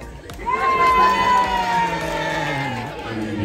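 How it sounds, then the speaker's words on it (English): Crowd of family members cheering and shouting after a ceremony aboard the Carnival Breeze cruise ship, a lively mix of whoops, children's shouts and chatter filling the space, with a long sustained cheer rising early on. "Give yourself a big round of applause."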